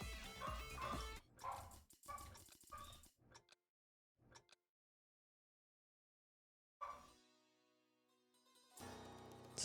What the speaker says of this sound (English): Sorry about my dog if you can hear him, by the way.